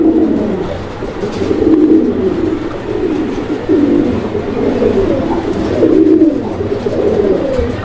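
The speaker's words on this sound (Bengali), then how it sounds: "আমরা এই মুহূর্তে দেখতে পাচ্ছি এখানে আরো এক জোড়া কবুতরের কালেকশন রয়েছে" Racing pigeons of the Johnson bloodline coo repeatedly in a loft. Several birds give soft, throaty, rolling coos that overlap in an uneven rhythm, close and fairly loud, with no voices.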